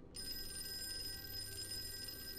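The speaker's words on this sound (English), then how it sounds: "Want me to answer the phone" A telephone rings in the horror video game Call of Cthulhu, a continuous electronic bell tone starting abruptly and holding steady, fairly quiet and heard alone.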